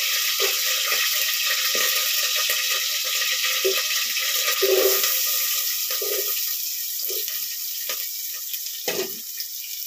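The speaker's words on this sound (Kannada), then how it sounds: "ಎಣ್ಣೆನೇ ಚೆನ್ನಾಗಿ ಫ್ರೈ ಹಾಕೋತಿದ್ದು" Chicken kebab pieces frying in hot oil give a steady, close sizzling hiss, with small pops and crackles scattered throughout. No one speaks.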